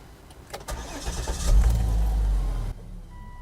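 A Volvo XC90 with the 3.2 engine is started with a key: a brief crank, then the engine catches and surges loudly before settling, heard up close with no talking.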